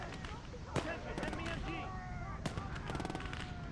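A machine gun fires from a tower in a D-Day 1944 World War II strategy game, rapid rattling bursts among scattered battlefield shots, with a voice talking over the fire.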